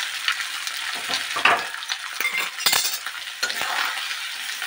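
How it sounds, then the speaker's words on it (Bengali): Diced potatoes fried in oil in a pan and stirred for a potato filling: a steady close sizzle with scraping stirs and a few faint metal clinks throughout. "এর মধ্যে আমি আলুগুলো অ্যাড করে দিলাম,"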